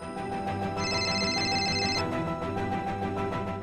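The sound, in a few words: telephone ringing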